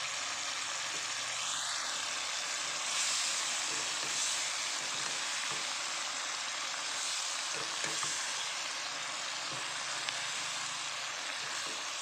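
Shrimp and carrots fry in a hot pan with a steady, close sizzle, and occasional light scrapes and clinks come from stirring throughout.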